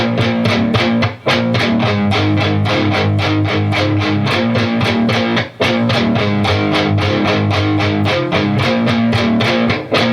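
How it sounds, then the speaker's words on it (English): A distorted electric guitar plays a riff in a guitar lesson, with loud, dense, driving chords struck in a steady rhythm, pausing briefly only twice. "Here it is with distortion."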